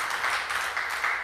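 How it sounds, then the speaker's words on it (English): Congregation clapping for Pastor John and his wife Jessica at a church service, a steady dense patter of many hands, moderately distant and even throughout with no voices over it. "can we give a hand clap to Pastor John and his wife, Jessica?"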